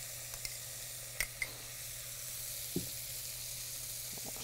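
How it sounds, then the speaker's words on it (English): Onion, carrot and celery sautéing in rendered bacon fat in a pan, a soft steady sizzle with a few faint clinks of a utensil stirring, quiet and close. "we're just going to kind of saute these down"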